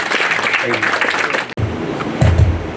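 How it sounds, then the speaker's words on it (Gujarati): Audience applause welcoming a speaker at a growth capital and IPO summit: a dense, steady patter for about a second and a half, then a sudden break and a voice with crowd noise behind it. "શ્રી CA સંદીપ ગુપ્તાજીનું તાળીઓના ગડગડાટ સાથે સ્વાગત કરીએ"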